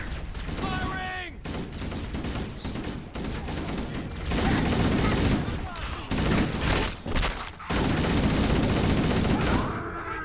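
Gunfire from Halo: Combat Evolved Anniversary, a dense fusillade of automatic shots and thuds rolling on loudly through the whole stretch, with voices breaking in over the shooting.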